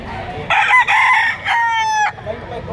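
A rooster crows loudly and close by at a chicken auction in Lipa, one long strained call broken into segments, with faint crowd murmur in the background.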